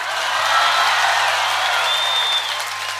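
Rally crowd at a large public gathering breaking into big, sustained applause, a steady wash of many hands clapping at close range throughout, with faint whistles or cheers over it.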